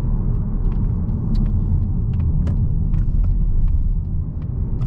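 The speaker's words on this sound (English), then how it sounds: "It has a little bit of tire noise though" Steady low road roar of tire noise fills the cabin of a Mazda3 Carbon Edition hatchback while driving, a constant rumble with faint ticks and clicks above it.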